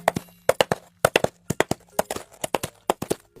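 Coconut shells struck together as film foley imitate galloping horse hooves, a crisp, close, rhythmic clatter of paired clip-clop hits repeating steadily.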